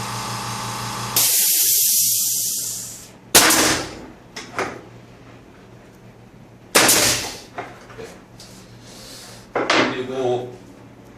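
A one-horsepower mini air compressor drives a spray gun with about a 0.8 mm nozzle, giving a loud sustained hiss followed by several shorter sharp bursts with gaps between.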